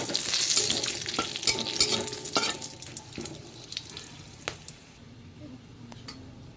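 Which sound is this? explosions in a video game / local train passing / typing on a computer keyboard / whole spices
whole spices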